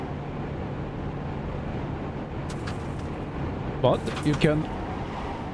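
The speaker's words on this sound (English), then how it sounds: "Only wind and tires." Steady broadband wind and tire roar inside a VW Jetta TDI in the iRacing simulator, with almost no engine sound, running continuously under a man's speech near the end.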